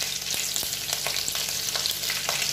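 Green chilies and cumin seeds fry in a pan, giving a continuous dense crackling sizzle with scattered sharper pops, steady and close throughout, with no talking.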